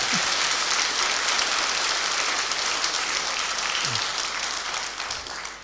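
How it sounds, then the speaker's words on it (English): Audience applause at a humorous talk about children and people over ninety, a steady, dense wash of clapping that holds for several seconds before tapering slightly at the end. "Give him another round of applause"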